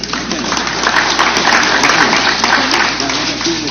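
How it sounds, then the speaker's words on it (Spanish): A congressional committee session audience claps in welcome for an arriving speaker, a sustained, fairly loud crackle of many hands over a low background hum, with a voice faintly present beneath the applause. "Ahí lo recibimos con fuertes aplausos"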